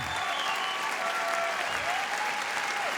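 Loud, sustained applause from a large crowd giving a standing ovation at the end of a match, dense clapping filling the space evenly throughout, with whistles and cheers faintly mixed in.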